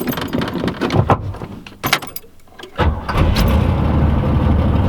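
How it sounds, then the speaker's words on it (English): A Chevrolet Camaro IROC-Z fitted with an LS1 cranks on a cold, frosty day, with a few clunks and whirs, then the engine catches and settles into a loud, steady rumble close by. "I'll let the car warm up for a little bit."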